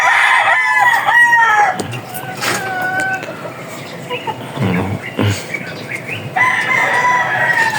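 Chickens cluck and a rooster crows nearby, with several overlapping calls and some rustling in a busy farmyard.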